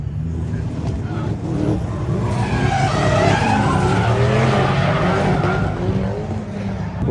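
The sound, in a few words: McLaren car drifting sideways, tires skidding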